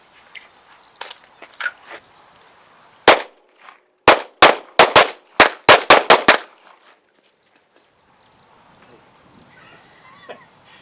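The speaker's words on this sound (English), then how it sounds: "on the command to fire, we're going to fire 2 rounds and step to the left" Pistol shots fired on a defensive shooting range, a quick series of about nine sharp, loud cracks in close pairs and runs, with fainter pops and distant shots before and after.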